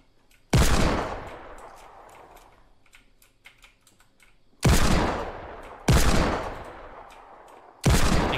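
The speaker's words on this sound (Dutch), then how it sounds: "Kijk dan hoe sick dit ding schiet" Rapid bursts of automatic gunfire from a John Wick–skinned player's weapon in a Fortnite Battle Royale match, four loud sharp volleys that each ring out and decay, with quieter clicking game sounds between them.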